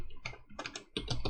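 A few quick bursts of keystrokes clatter on a computer keyboard, close and crisp, with short pauses between clusters.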